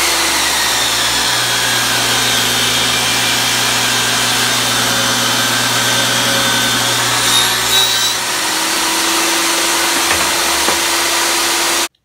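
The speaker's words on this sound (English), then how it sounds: "I've beveled my table saw blade to 45 degrees" A table saw with its blade beveled to 45 degrees cuts a dado in wood: a loud, continuous whirring whine that holds steady, shifts in tone as the blade bites, then winds down at the end.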